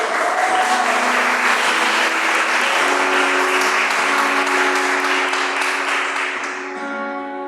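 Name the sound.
audience applauding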